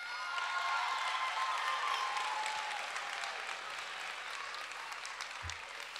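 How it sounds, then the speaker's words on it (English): Students from a Cleveland school cheer and applaud together at a large event, a steady wash of clapping and crowd cheering filling the space, with a few high whoops rising over the din throughout. "give us a big, loud cheer to show that you're here"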